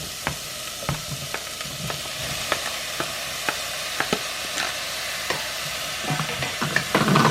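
A spoon stirs butter beans into a pot of sausage soup, tapping and scraping against the pot in regular clicks over a low, continuous simmering sizzle.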